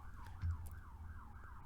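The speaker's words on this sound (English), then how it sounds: "I don't know if those police sirens are getting caught on the mic." Police sirens outdoors, a faint wailing tone rising and falling in slow sweeps behind a low background rumble, distant and muffled.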